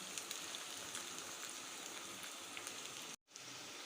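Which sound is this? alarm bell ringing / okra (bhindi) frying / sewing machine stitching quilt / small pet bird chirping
okra (bhindi) frying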